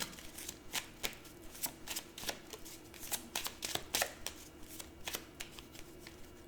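A deck of tarot cards is shuffled and cut close by, making repeated crisp riffling and slapping bursts in an irregular rhythm.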